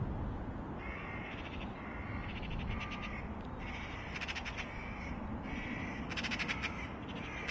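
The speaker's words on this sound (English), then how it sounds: "Crow making a ruckus." Crows caw repeatedly at Manchester Airport in short harsh bursts that come and go over a steady loud rumble of airport and outdoor noise, fairly close and clear.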